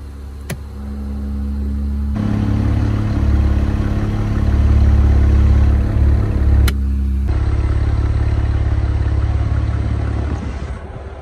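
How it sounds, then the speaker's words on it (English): A lifted Jeep Gladiator on 40-inch tires idles loudly up close with its exhaust bypass valve open, a deep rumbling drone that swells after a couple of seconds and settles back near the end, with faint clicks. "this is going to open the exhaust bypass valve"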